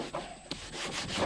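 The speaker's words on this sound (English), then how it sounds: "So I'm gonna scrub these down" Parts being scrubbed clean with a brush before going onto a paint rack, heard as short, close rubbing strokes that start and stop irregularly, with no talking.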